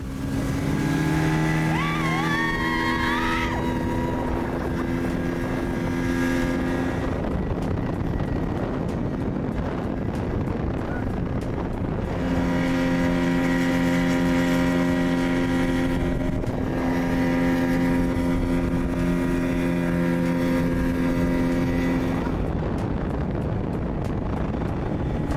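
Speedboat motor drones on the Kerala backwaters with heavy wind buffeting the microphone, holding a steady engine tone that fades and returns between gusts, no voices.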